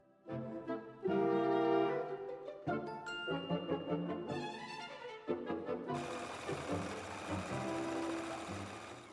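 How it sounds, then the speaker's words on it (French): A sewing machine stitches the seam of a bike bag, running in several bursts with brief pauses and clicks between them, close and fairly loud with no talk. "Piquez à la machine à 1 cm du bord."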